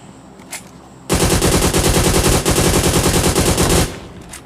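Automatic gunfire in a battle royale video game, a sustained close, loud burst of rapid shots lasting several seconds after a quiet lead-in.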